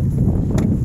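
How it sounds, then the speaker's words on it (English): Steady wind buffets the microphone outdoors while ice fishing, a low rumbling whoosh with no other clear sounds. "it's super windy out here"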